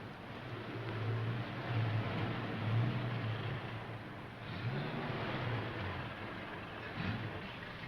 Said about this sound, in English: You're not going any place with that Acme truck